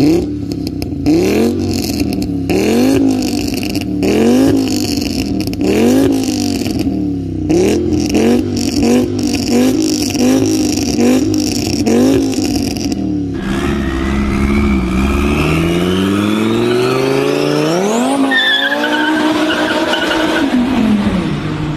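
A car's rotary engine revs hard in repeated rhythmic bursts, then roars up through the gears with rising pitch and tire squeal, loud and close.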